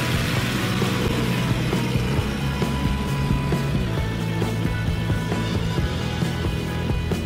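A small aircraft engine idles steadily after landing at the Zell am See airfield while the plane taxis toward a hangar, a loud, continuous close-up drone with no pauses.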